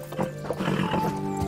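Horse in the medieval game Kingdom Come: Deliverance, a close whinny with hoof clip-clops, loud and brief, with no talk over it.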